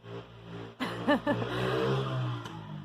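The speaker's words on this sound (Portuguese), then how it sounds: "Hoje resolveu passar uma moto aqui que tá, vai e vem" Motorcycle passing outside, an engine note rising and revving briefly before fading back into a steady drone, moderately loud with no talking.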